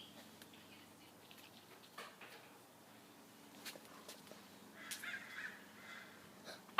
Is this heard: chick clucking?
no